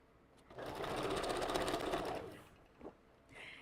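A sewing machine stitches wig wefts with a quick, steady run of about two seconds, then stops, followed by a few faint handling noises nearby.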